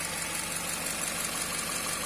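A BMW M62 V8 engine, heavily worn and under repair, idles steadily after being started, a dense continuous rumble heard close up with no speech.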